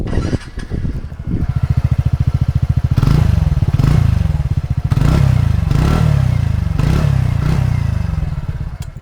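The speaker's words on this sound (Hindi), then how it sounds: "तो एक बार इसकी एग्जॉस्ट नोट सुनते हैं पहले।" A TVS Ntorq 125 scooter engine idles, then revs up several times in rising bursts, its exhaust note loud and close with a throaty, buzzing pulse.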